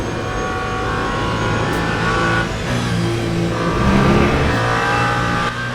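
Race car engine roaring steadily at high revs in Le Mans Ultimate during a 24 Hours of Le Mans race, a sustained loud drone with pitch shifts as the car accelerates through the Porsche curves near the end of a lap.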